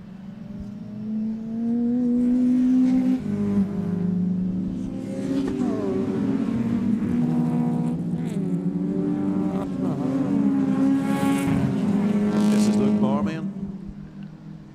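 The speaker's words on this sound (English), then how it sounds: "The distinctive Toyota Celica out in front." Historic race cars thunder along a circuit with a Toyota Celica leading, their engines droning and rising in pitch as they pass, loud and sustained beneath a commentator talking.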